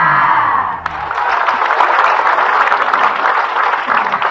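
Applause from a studio audience at an Islamic religious talk show, a dense steady clatter of many hands clapping close and loud, with faint cheering mixed in after an opening voice.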